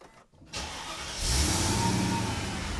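A Mercedes E55 started with its push button: a short quiet gap, then the starter cranks and the engine catches, rising into a loud, steady, close idle rumble that holds to the end.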